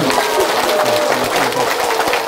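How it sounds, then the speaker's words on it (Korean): Applause from an audience at a Korean meditation and Seon center event during a bouquet presentation, continuous steady clapping throughout. "큰 박수"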